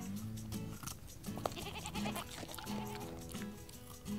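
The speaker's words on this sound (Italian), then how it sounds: "Una capra." A goat bleats several times in short, wavering cries, with other bleats and farmyard noise around it, close by.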